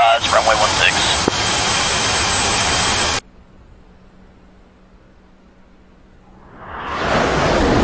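A jet aircraft taxiing in the DCS World flight simulator gives a loud, steady engine roar that cuts off abruptly, leaving near silence before the roar swells back up. Voices may be present alongside the engine.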